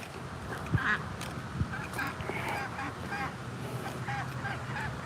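A duck calls near the water with a few faint, scattered quacks over a soft outdoor background during a bass fishing outing.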